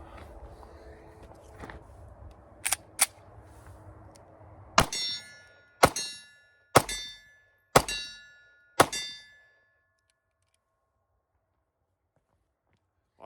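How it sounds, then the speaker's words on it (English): Several sharp metallic impacts from a Taurus G2 pistol firing rounds downrange, a few scattered cracks followed by five evenly spaced loud reports with short ringing decay, then quiet. "we're gonna send some rounds downrange with this Taurus G2"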